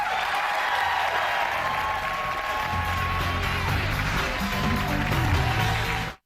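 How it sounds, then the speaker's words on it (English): A studio audience on the talk show The View, with Prince as a guest, claps in a steady, dense round of applause that keeps going for several seconds, with faint talk underneath, before cutting off. "Now you can clap."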